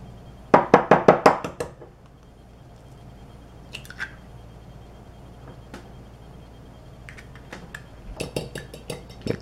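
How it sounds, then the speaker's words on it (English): An egg is cracked for an omelette sandwich: a quick cluster of sharp knocks against a hard edge, followed by sparse clicks and a second burst of tapping and shell handling near the end, close and fairly loud with no talking. "Alright, I'm break an egg."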